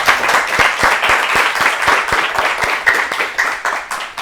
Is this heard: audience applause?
yes